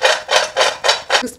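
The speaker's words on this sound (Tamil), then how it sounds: "சவுண்ட் நல்லா எவ்வளோ கிறிஸ்பியாக இருக்கும்" Crispy fried rava (semolina) balls crunch loudly and close in five quick, evenly spaced bites or breaks, with no talking.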